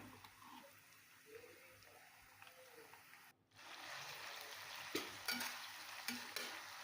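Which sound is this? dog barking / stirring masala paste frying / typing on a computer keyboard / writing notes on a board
stirring masala paste frying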